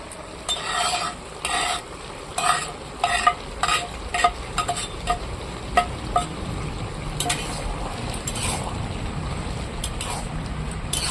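Fried prawns get stirred into bottle gourd cooking in a pan, with a run of brisk rhythmic spatula scrapes and clacks over a constant low sizzle, close by, then the stirring eases into steady frying.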